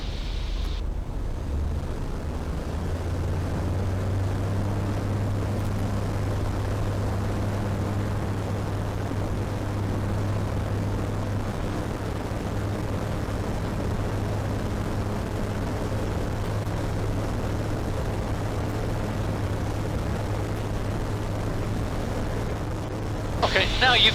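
A Eurofox light aircraft's engine drones steadily in flight, a constant low hum heard from inside the cabin for over twenty seconds, with a short louder burst of noise at the end.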